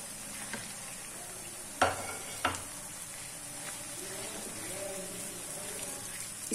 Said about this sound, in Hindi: अब मैं इसमें टमाटर ऐड कर दूंगी।